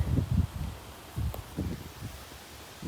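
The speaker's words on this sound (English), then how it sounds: "Listen to the wind blow through the trees." Wind moves through trees outdoors in Vermont, making soft, low gusty rustling in a few uneven swells. A steady breezy hiss sits underneath, and no one talks.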